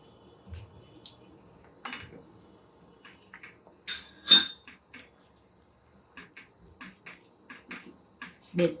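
A spoon stirs a thick soya chunks dip with cornflour puree in a pan over high flame, making sparse clinks and scrapes of metal on the pan with quiet gaps between them.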